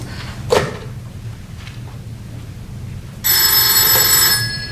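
A telephone bell rings loudly in a stage play, a bright sustained electric ring that starts after a sharp knock and a stretch of quiet room tone.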